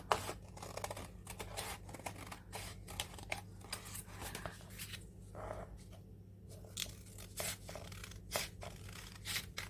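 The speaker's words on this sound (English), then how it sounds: "So I'm just using scissors." Repeated crisp snips of scissors cutting through paper, quiet and close, in an irregular rhythm with soft rustling between cuts.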